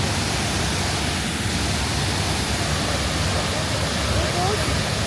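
A waterfall in Bali roars as a steady, broadband rush of falling water, loud and continuous with no distinct breaks.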